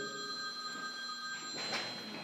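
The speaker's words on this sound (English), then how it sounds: "George is going to turn his phone off" A phone rings in a church during a sermon, a steady electronic ring tone held through the quiet hall with a louder burst near the end, no talking over it.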